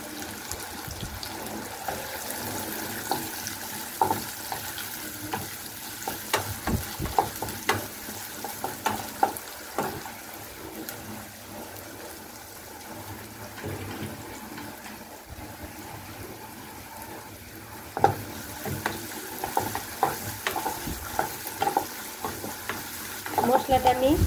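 Chopped garlic added with onion and whole cumin sizzles and fries in hot oil while being stirred, with steady crackle and frequent scraping stir strokes throughout, preparing a kochur loti (taro stolon) curry.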